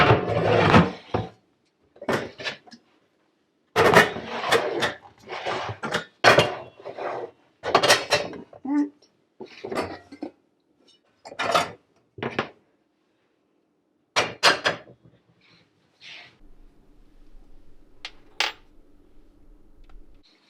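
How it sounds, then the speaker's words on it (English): Pots and pans being put away into kitchen pantry cupboards: a long series of close clunks, knocks and clatters at irregular intervals, with brief quiet gaps and a faint rustle near the end. "Let's put the other pans away."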